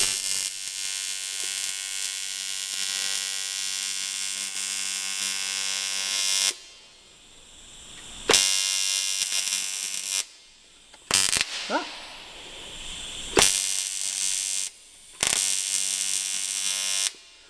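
A TIG welder runs at a drift track build with a steady electrical buzz and hum, cut by several abrupt stops and restarts in the second half, with brief quiet gaps and no one speaking.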